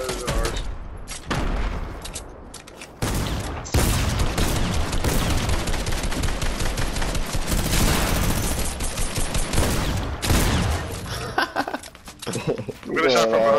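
Rapid bursts of minigun fire from the Fortnite video game rattle across the scene, dense and loud with short gaps, while players talk excitedly over the shooting.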